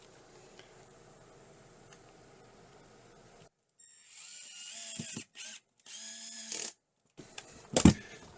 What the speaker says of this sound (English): So I'll start with a pilot hole. And then the supplied screws.